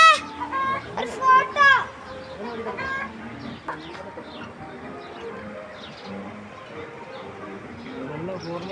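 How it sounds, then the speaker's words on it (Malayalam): Village chickens cluck loudly in a burst of sharp, rising calls at the start, then carry on more quietly in the background beneath voices and the sounds of children. "ഇതെന്ത് കോഴി ഇത്?"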